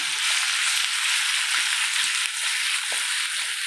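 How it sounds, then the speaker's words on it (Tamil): Chow chow, ridge gourd and beetroot sautéing in sesame oil for a spicy chutney, giving a loud, bright, continuous frying hiss with faint soft stirring knocks underneath. "அந்த நல்லெண்ணெயிலேயே நம்ம என்ன பண்ணுறோம் அப்படின்னா இதை வதக்கிட்டுருக்கோம்"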